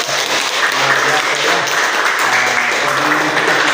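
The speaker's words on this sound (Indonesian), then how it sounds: "tepuk tangan semuanya" Classroom applause from university students in a Bugis language class, a steady wash of clapping running throughout with voices mixed in beneath it.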